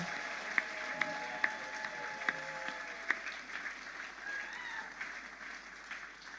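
A crowd applauds in a steady wash of clapping, moderately distant, with a few sharper claps and faint voices.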